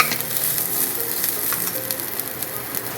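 Long-grain rice fries in a pan on low gas while being stirred, a steady close sizzle with light scraping and occasional soft clinks, no voices.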